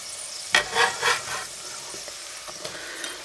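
Finely chopped garlic cloves hitting a hot pan, with a burst of sizzling and several stirring scrapes that settle into a quieter crackle, no voices.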